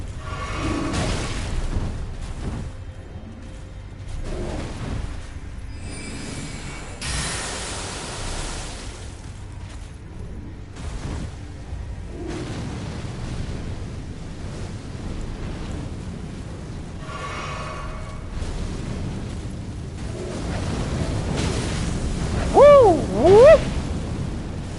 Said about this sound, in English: He's got a head cannon!